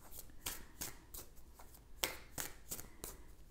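Tarot cards being shuffled by hand in quiet sharp bursts of riffling and slapping, roughly eight brisk strokes at an uneven rhythm, close and soft.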